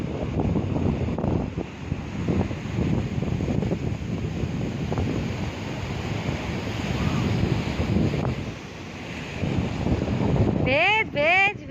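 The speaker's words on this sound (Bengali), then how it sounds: "পুরো ভরা কোটালে সমুদ্র একদম।" Sea waves and wind roar at the beach at Tajpur at high spring tide, with continuous surf and gusty wind noise buffeting the microphone. A short tonal whistle or call breaks in near the end.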